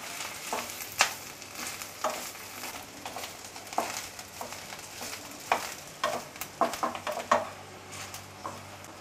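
Chillies, green chillies and garam masala roasting in a pan on the stove: a low, steady crackle with repeated sharp scrapes and clinks from stirring, close and fairly quiet.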